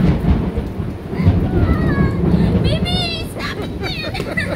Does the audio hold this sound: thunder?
yes